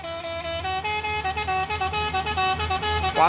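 A truck's telolet horn plays a rapid, musical sequence of tooting tones, loud and near, with engine rumble underneath.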